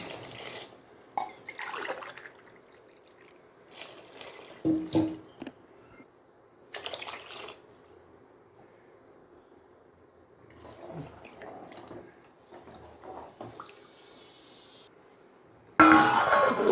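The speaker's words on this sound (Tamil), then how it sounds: "4 கிளாஸ் தண்ணி ஊற்றிக்கிறேன்." Water is poured into a pot for Ambur biryani in several separate pours, splashing and trickling in short bursts with quiet pauses between, ending in a louder sustained pour.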